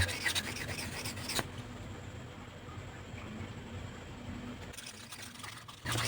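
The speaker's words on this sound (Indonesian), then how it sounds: "kita poles saja atau kita asah saja dengan menggunakan amplas seperti ini" Scissors are sharpened with sandpaper: a steady rasping, scraping rub of abrasive against metal, continuous for several seconds, with a brief noisier burst at the start and end.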